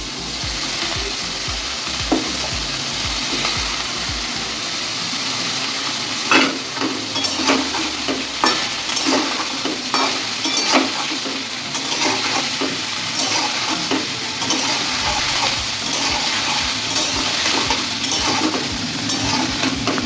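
Jackfruit and egg curry ingredients frying in a pan, a steady close sizzle with intermittent stirring scrapes and clinks running throughout without pause.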